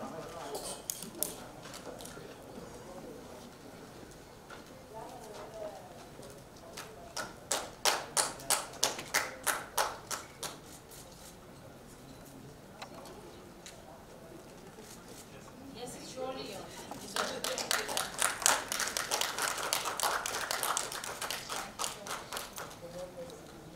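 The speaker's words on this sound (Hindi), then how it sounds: "जोरदार तालियां लेडीज एंड जेंटलमैन" An audience at an award ceremony breaks into two waves of rhythmic clapping that swell and fade, with murmured voices and room noise in between.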